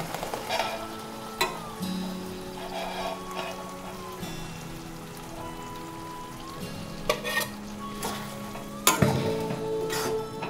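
Poppy seed paste ground with garlic, ginger, chilli and garam masala frying in a pan for posto chicken: a steady soft sizzle with a few sharper clatters of stirring, mid-level and close, no talk.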